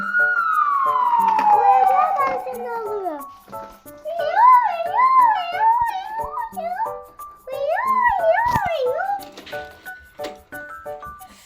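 A voice imitates a toy police car siren, a long falling wail and then warbling two-tone siren sounds, loud and close, in a toy car play session.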